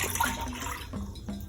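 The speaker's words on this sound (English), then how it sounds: "All right, let's add the water" Water poured into a cooking pot for teff, a short steady splashing stream, close and moderately loud with no talk.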